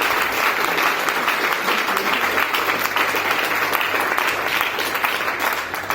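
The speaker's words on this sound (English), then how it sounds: "So a big round of applause to them" A full audience applauds at an education technology award ceremony, loud and sustained throughout, a dense even wash of clapping with no speech breaking through.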